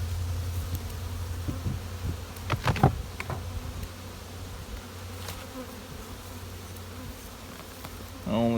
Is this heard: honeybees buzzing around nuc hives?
yes